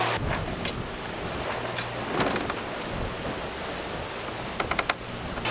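Wind rushing over a sailboat at sea in the Windward Passage, about 13 knots from behind, a constant broad roar buffeting the microphone, with a few light knocks and rattles near the end.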